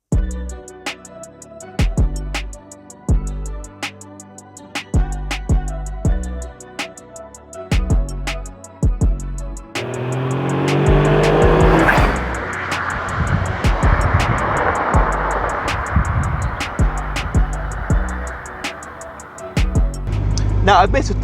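A Caterham Seven 170R with a Suzuki 660cc three-cylinder engine drives past. Steady ticking at first, then a loud rush of engine and road noise swells and holds, with faint clicks near the end.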